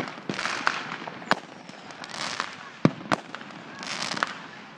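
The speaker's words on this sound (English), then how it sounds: "Well, there are the fireworks." Fourth of July fireworks burst outdoors as a run of sharp bangs and crackling pops at irregular intervals, some close and loud, with rumbling booms between them.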